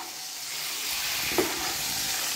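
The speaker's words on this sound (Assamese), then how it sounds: "ধুনীয়াকৈ ফ্ৰাই হ'বলৈ দিব লাগিব" Fish pieces fry in hot oil in a pan, giving a steady, close, bright sizzle that barely changes, with one brief knock partway through.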